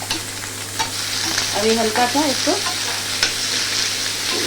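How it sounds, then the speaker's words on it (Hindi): Onions frying in very hot oil in a home kitchen, a close, steady sizzle with a spoon scraping and stirring through it while someone speaks briefly. "तेल में प्याज डाल रही हूँ"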